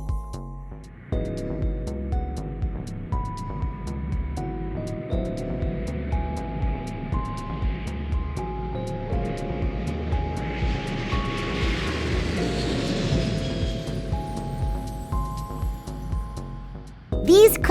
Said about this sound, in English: The jet is flying in the sky.